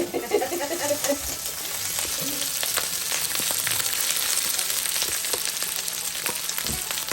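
Leftover rice frying with garlic into Filipino garlic fried rice, a steady close crackling sizzle with stirring scrapes that runs without pause, no talking.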